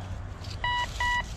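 Metal detector on its first outing in a field hunt, giving two short electronic beep tones in quick succession over faint outdoor background noise, with no talk.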